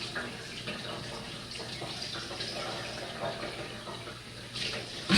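Tap water runs steadily into a sink while dishes are rinsed, with soft splashing and faint clatter of plates, close by, and a brief louder splash at the very end.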